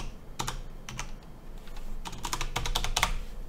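Quick bursts of keystrokes on a computer keyboard as a password is typed while setting up a user account in Synology DSM, with clustered taps near the start and a denser run toward the end, close and clear.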